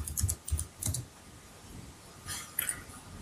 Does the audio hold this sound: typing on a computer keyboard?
yes